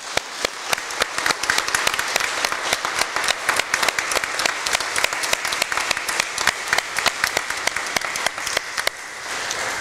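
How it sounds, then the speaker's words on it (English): Church congregation applauding at a Sunday Mass on Father's Day, a sustained round of many hands clapping for about ten seconds, fairly close and even, with no talk over it. "Let's give them a round of applause."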